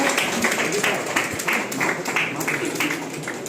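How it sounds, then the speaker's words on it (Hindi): An audience claps steadily at a gold medal ceremony, a continuous patter of many hands that stays even throughout the clip, with a voice speaking over it. "आप सभी तालियों के द्वारा स्वागत।"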